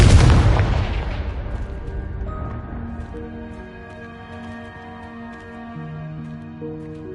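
The Confringo explosion spell in the video game Hogwarts Legacy goes off as a sharp, loud blast that decays over a couple of seconds, followed by quieter sustained magical tones and ringing game sounds.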